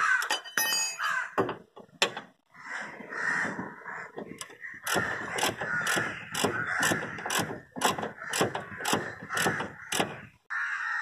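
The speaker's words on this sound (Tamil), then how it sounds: "இந்த ஸ்டே நட்டை டைட் பண்ணிடுங்க." Mechanical ratcheting and clinking as the stay nut on a TVS King auto-rickshaw axle boot is tightened, a close run of sharp repeated clicks and metallic strokes with no talk.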